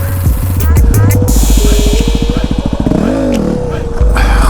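Yamaha WR250R motorcycle engine revving loud and close during a slow wheelie attempt, a rapid throbbing idle climbing into a rising and falling rev, with wind noise and a voice talking over it.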